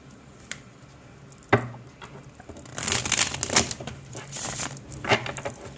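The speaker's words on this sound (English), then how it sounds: "So I'll just shuffle it one more time." Papery rustling and soft flicking as a deck of tarot cards is shuffled close by, building into a busier riffle halfway through.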